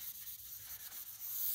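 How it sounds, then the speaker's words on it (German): A foam sanding sponge of 180 grit rubs by hand across a walnut wood shelf piece, making a steady, close, soft scratching hiss that grows slightly louder toward the end. "Ganze schleife ich nur mit so einem Schwämmchen zwischen, nicht mit der Maschine"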